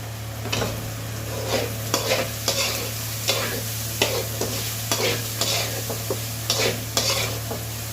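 Spiny gourd (kasarakaya) pieces fry in a pan with a constant sizzle, while a spatula scrapes and tosses them in a regular rhythm of repeated stirring strokes over a low steady hum.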